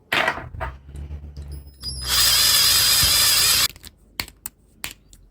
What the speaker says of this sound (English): Put the drill in and just swivel it around a little bit.